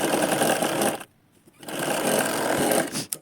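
A sewing machine stitches a seam on a mixed cotton katori blouse with a loud, continuous whirring drone, stopping briefly for about half a second before running again.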